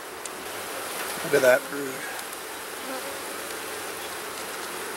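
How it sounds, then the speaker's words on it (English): Honey bees buzzing around a beekeeper working an open hive: a steady, faint drone throughout with one nearer bee briefly louder, as someone speaks. "I still got a couple of bees around me from the previous hive."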